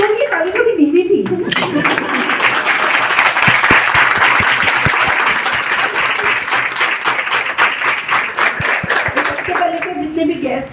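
Sustained audience applause at a group meeting, many hands clapping steadily and loudly for about ten seconds, with brief talk at the start and end.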